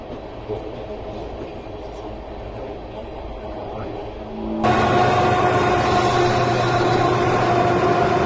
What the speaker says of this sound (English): There's the train going across.